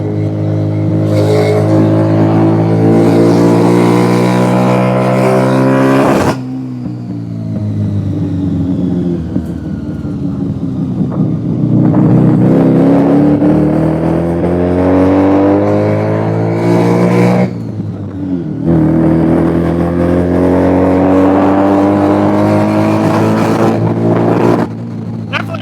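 Rotary-engine car on its first drive, revving hard in long rising and falling sweeps that break off abruptly and climb again, loud and close, with a voice talking briefly in between.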